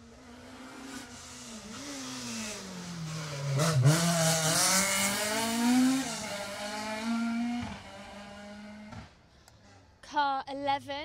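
A Mazda MX-5 rally car engine revs hard and drives past on the Jersey Rally, its pitch rising and falling through the gears, ending in a short burst of sharp revving.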